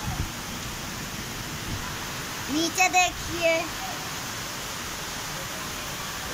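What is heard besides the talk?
heavy rain falling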